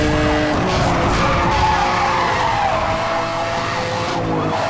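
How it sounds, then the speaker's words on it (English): Tyres squeal in a long skidding drift with engine roar in Need for Speed Hot Pursuit Remastered on PS5, loud and continuous, with wavering siren tones mixed underneath. "I slightly made the mistake in drifting"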